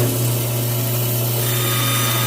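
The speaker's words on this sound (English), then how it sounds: "So I'll turn on the bandsaw." A band saw runs after being switched on, a steady motor hum with a constant whirring tone, close and unchanging throughout, no talk.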